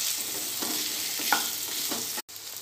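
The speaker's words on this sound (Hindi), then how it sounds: "सभी को अच्छे से आलू के साथ मिलाते हुए हमें भून लेना है।" Potatoes being stirred and fried with spices in a pan for a potato posto curry, a steady sizzle under soft scraping strokes of a spoon, with one brief break near the end.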